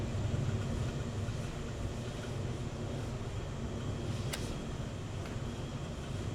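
Diesel engines on an oil rig in the game The Last Caretaker run with a low, steady mechanical drone. A brief high tone cuts through once near the end.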